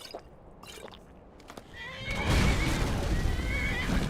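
A horse in the video game Hogwarts Legacy neighs once in a loud whinny after a few faint clicks, with hoof clip-clop and commotion continuing behind it.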